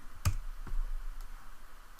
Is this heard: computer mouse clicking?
yes